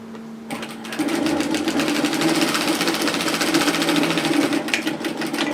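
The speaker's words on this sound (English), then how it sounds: "all I'm going to do is just edge stitch those sides together closed" A sewing machine runs steadily, edge stitching the sides of a fabric belt closed for a Belle Robe dress, a constant close whirring drone that starts after a brief softer lead-in.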